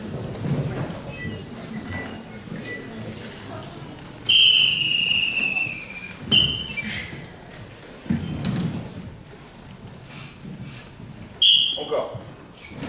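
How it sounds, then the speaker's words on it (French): A referee at an improv match blows a shrill whistle, first in one long blast and later in a short sharp one, among the voices and movement of a live stage show. "à chaque fois que monsieur l'arbitre va siffler"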